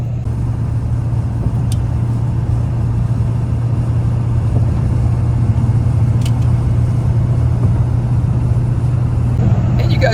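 A steady, low Ford 7.3 Powerstroke turbo diesel truck engine idles close by, a constant rumble running unbroken throughout with a couple of faint clicks.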